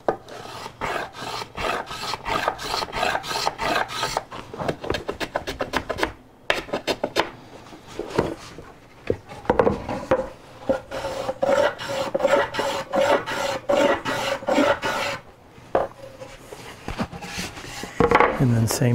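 A hand tool cuts chamfers along the edges of a wooden shooting board, giving loud, rhythmic rasping strokes in quick bursts with short pauses between passes.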